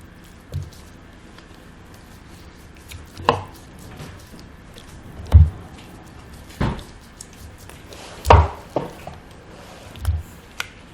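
Beef short ribs are handled on a chopping board, giving about eight separate dull knocks and thuds spaced a second or two apart, close by with quiet pauses between them.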